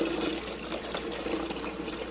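Filtered water poured from a pitcher into a Silonn portable ice maker, a steady close splashing trickle that fills for a couple of seconds.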